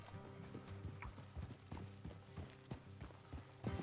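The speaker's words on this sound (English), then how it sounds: "Is this my horse?" A horse in the video game Red Dead Redemption 2 walks with faint, rhythmic hoof clip-clops, accompanied by creaking tack and mechanical rattles over a low ambient hum.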